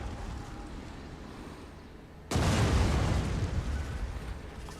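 Explosions in a Rome Total War II battle: a sudden loud broadband blast at mid-clip, followed by a sustained rumbling roar after a quieter stretch of battle noise.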